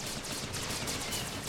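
Sniper rifle fire in the DOTAMech mod match, a dense stream of sharp gunfire cracks layered with continuous battle noise, loud and busy throughout with no clear pause.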